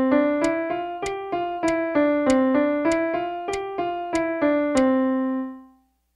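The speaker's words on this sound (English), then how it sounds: "So a series of eighth notes played using the same 5-note sequence would sound like this." Piano plays an even run of eighth notes cycling through a repeated five-note sequence, each note struck cleanly and ringing, with the last note left to decay into silence.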